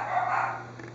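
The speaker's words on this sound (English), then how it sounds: "that's my dog's barking" A dog barks continuously at close range, a steady loud burst of barking with no pauses and no one speaking.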